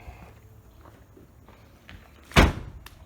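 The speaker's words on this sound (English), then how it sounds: "shut the trunk." A 2007 Toyota Camry's trunk lid is shut with one solid, close thump, following quiet rustling and soft shuffling movement beforehand.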